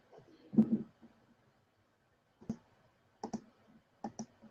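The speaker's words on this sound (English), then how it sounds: "oh, I'm typing in English." A handful of sharp, irregular keystroke clicks on a computer keyboard, with a louder cluster near the start and quick taps in pairs later, fairly quiet and isolated.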